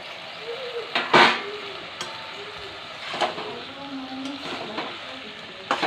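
Pieces of pointed gourd (potol) dropped into frying masala and stirred, giving a soft sizzle with a few sharp scraping clatters spaced through the stretch.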